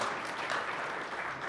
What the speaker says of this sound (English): Was that almost some applause?